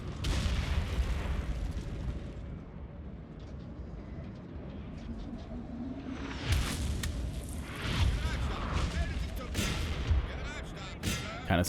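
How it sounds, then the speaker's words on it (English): Artillery canister shot blasting in a black-powder-era battle game, a deep rumbling boom amid ongoing battlefield noise and crackling volley fire, with a voice speaking over parts of it. "Oh yeah, that was a nice canister shot."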